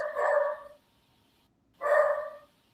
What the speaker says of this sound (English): Is that your dog, Ken?